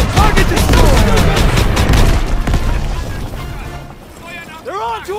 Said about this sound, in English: Stuka's attacking our position!